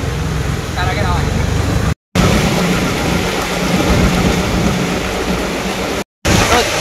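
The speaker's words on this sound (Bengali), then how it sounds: "ধোঁয়াধার বৃষ্টি হচ্ছে" Heavy rain pours down in a dense, continuous roar close by, with traffic rumble underneath and voices talking over it, interrupted by two brief cuts.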